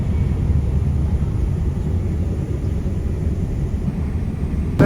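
easyJet airliner passing overhead, a loud, steady low rumble that fills the whole stretch without a break, with no voices over it.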